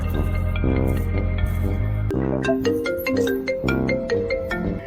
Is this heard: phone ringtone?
yes